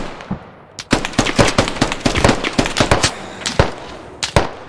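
Rapid bursts of gunfire in the tactical shooter game Squad, a dense run of loud close shots and automatic volleys with brief pauses, ending in a few isolated cracks; no talking.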